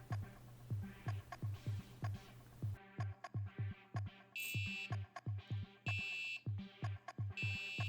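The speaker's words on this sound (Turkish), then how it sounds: "Onun yerine buzzer ekledim." An electronic buzzer on a homemade replica charging station circuit sounds in rapid, regular pulses, joined partway through by higher intermittent beeping tones.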